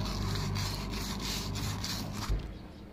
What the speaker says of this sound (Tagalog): Lihain nyo lang ng manipis yan. Para malinisan.